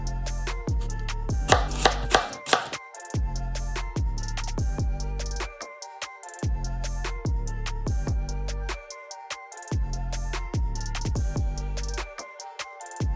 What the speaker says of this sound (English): Now it's time to peel and cut your apples.